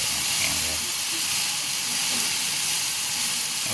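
Annatto seeds hit a hot pan while frog sautés with kamias and aromatics, giving a loud, steady hiss and sizzle that fills the whole moment without pause.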